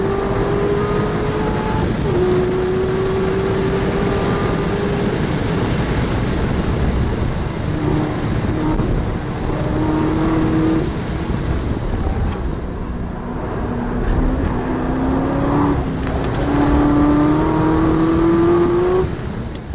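A stock 2012 Corvette ZR1 on Michelin tyres races the Nürburgring, its engine droning loudly and rising in pitch through the gears under constant wind roar.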